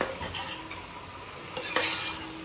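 Masala is stir-fried in a pan for Khandeshi khichdi, giving a close, steady sizzle broken by spatula scrapes and stirring knocks against the pan.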